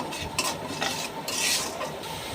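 Spoon scraping and stirring garlic paste with turmeric and chilli powder in a pan, a close, steady series of soft scrapes with faint sizzle, no voices.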